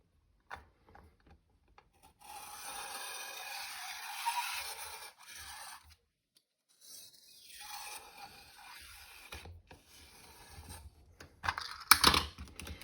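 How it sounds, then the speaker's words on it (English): A circle cutter slices a round out of white card for a handmade slider card, heard as close, steady scraping and rasping strokes in several passes with short pauses, ending in a few sharper clicks. "So I've changed my circle cutter to 2 1/2, and I'm going to cut myself out my white one now."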